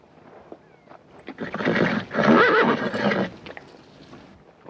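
A horse gives a loud, drawn-out whinny up close, with a few scattered hoof clops before and after.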